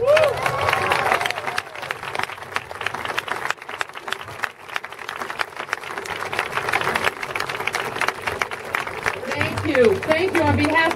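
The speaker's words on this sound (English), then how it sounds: "I take that applause for that long list." Outdoor crowd applause at a rainbow flag raising at Toronto City Hall during Pride Week, steady scattered clapping under wind and voices, with talk at the start and end.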